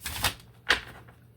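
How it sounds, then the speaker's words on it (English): Tarot cards being shuffled by hand on a tabletop, two soft papery swishes a moment apart, close and quiet with no talking. "I'm just gonna make a mess here while I shuffle"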